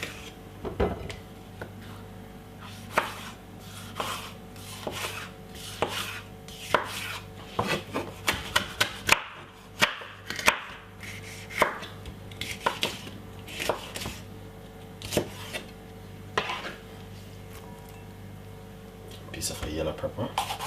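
A knife chopping red pepper on a cutting board, uneven bursts of quick sharp chops building to a dense flurry in the middle, with a voice speaking at times.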